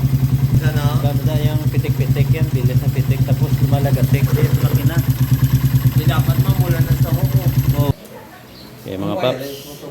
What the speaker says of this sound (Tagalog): Ganda yung pitik-pitik yan, bilis na pitik, tapos lumalagatik din makina